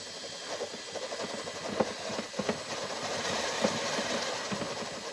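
The brushless motor of a Gmade R1 1/10-scale RC crawler built from a kit runs as a faint, steady whir. Light rhythmic clicks and rattles from the drivetrain sit on top of it.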